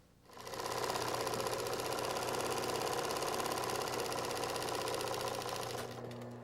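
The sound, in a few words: sewing machine stitching a teddy bear leg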